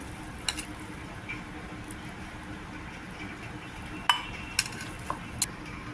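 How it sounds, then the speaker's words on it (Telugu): A spoon scrapes and taps in a bowl of mango pickle with oil, mustard powder and mango pieces, giving a few sharp clinks over a quiet background. "బాగా మిక్స్ చేశాను ఇది ఆవకాయ ముక్కలు ఆవు పిండి అంతా"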